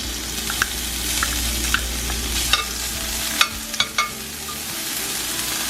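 Red curry paste sizzles as it fries in a pan for vegan tofu curry noodles, a steady hiss over a low hum, punctuated by sharp spatula taps and scrapes.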